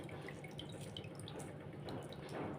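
Faint splashing and swishing of water with small drips, like grains being swirled and rinsed in a bowl nearby.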